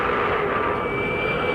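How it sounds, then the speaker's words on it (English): A distant 2007 V8 Supercar race car engine drones steadily with a sustained tonal whine, loud and continuous throughout without voices. "You could hear the engine in the background."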